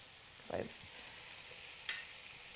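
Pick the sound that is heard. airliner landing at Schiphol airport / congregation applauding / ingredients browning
ingredients browning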